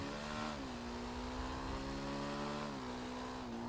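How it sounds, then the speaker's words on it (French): A car engine in the video game GTA 5, a steady loud drone with rising revs at two points, close and continuous with no talk over it. "Attends, le moteur démarre."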